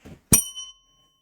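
A single bright bell ding as a notification sound effect, struck once after a faint short thump and left ringing with a clear metallic tail that decays within half a second.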